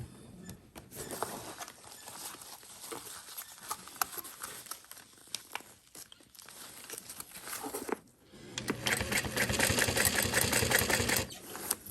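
A sewing machine stitches fabric for a cross-body sling bag, running in short busy bursts with pauses and handling rustle, then a longer, louder steady run near the end.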